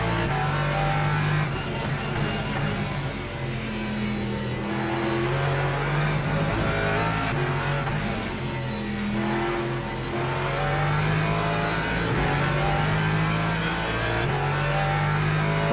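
Race car engine in the video game Le Mans Ultimate, a loud continuous drone rising and falling through gear changes, with steady revving and shifting pitch throughout and no talk.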